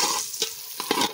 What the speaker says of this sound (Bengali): দেখো পেঁয়াজটা কিরকম লাল লাল করে ভেজে নিচ্ছি